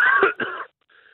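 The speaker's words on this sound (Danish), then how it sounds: "Det er hosten." A single harsh cough, close and loud, breaks into two rough bursts followed by a faint wheezy trailing breath.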